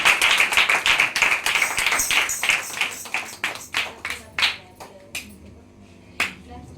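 A crowd at a New Year celebration claps, first in a quick, busy burst and then thinning into scattered, separate claps, heard fairly close with a faint voice under it.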